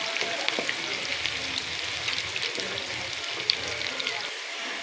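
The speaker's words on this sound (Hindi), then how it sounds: "कढ़ाई में मैंने ऑयल को गरम कर लिया है और एक प्याज मैंने काटी है दरमियाने साइज़ की, वो मैंने इसमें डाल दी है।" Chopped medium-sized onion frying in hot oil in a kadai, a steady close crackling sizzle with sharp pops throughout, loud and continuous with no talk over it.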